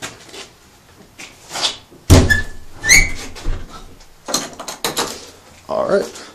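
A door in a house basement is shut and locked: a sharp thud followed by clicks and rattling of the latch and bolt, close by, with scattered handling noises and brief talk around it.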